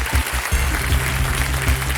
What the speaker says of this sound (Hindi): जोरदार तालियां मुद्दन के लिए।